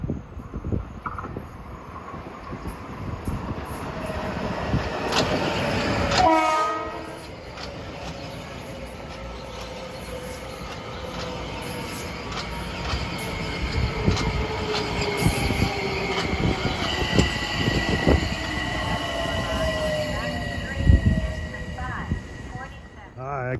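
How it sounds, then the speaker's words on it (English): A Metro-North train arrives at Croton-Harmon station, wheels squealing and rumbling along the rails, with an announcement and nearby talk over the rolling train. "train 753 for Croton-Harmon is arriving at"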